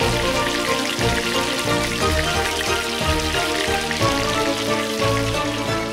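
Pork frying for pares lechon at a Caloocan street food stall, a steady dense crackling sizzle of hot oil that continues loud and close with no talk.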